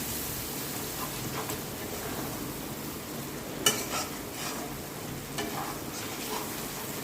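Chicken and spices sizzle steadily in a pan for Kashmiri chicken masala with onion, garlic, ginger and onion paste, while a spoon stirs with soft scraping and one sharp clink, close and fairly quiet.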